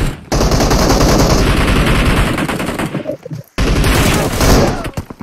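Automatic gunfire in PUBG Mobile, dense rapid bursts of loud, close shots running almost without pause, with a short break near the end before firing resumes.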